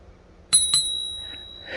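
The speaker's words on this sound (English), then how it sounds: "It even has a little bell." Bell on a Himiway Cruiser e-bike struck twice in quick succession, two bright, close metallic dings whose clear ringing tone lingers and slowly fades in an otherwise quiet setting.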